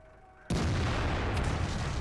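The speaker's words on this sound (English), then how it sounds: "There's 2 shots out from the AMX." Tank cannon fire from an AMX in the video game World of Tanks: a sudden loud boom cuts in after a quiet start and is followed by a dense, sustained roar of battle noise.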